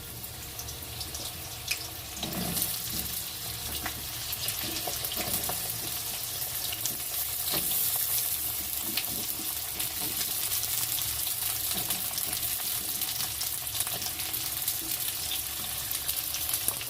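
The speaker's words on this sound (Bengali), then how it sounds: "পটলগুলো একটু ভেজে নিই" Pointed gourd (potol) sizzles steadily in a pan, a broad, even hiss of frying running throughout with a few faint clinks and scrapes, no voices.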